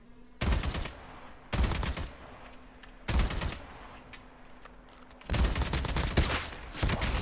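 Loud, close bursts of rapid gunfire in Call of Duty Mobile, four or five separate volleys with short pauses between, with no talking.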